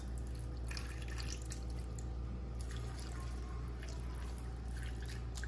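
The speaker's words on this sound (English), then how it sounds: "We're gonna pour the chicken broth into the pan." Chicken broth poured into the corners of a pan with chicken, a steady close liquid pour and trickle with light dripping over a constant low kitchen hum, continuing throughout.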